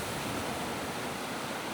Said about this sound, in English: The waves look absolutely incredible. Listen to that sound, like just ASMR for a second.